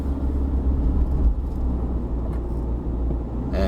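A 2021 Mitsubishi Triton Athlete pickup cruises along a rural B road, its cabin filled with a steady low engine and tyre rumble without pause.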